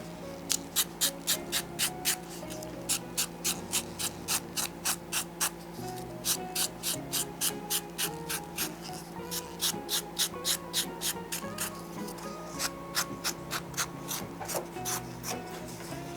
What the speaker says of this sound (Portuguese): Vou ajeitar na lixa.